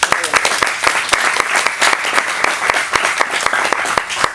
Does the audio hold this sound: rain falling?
no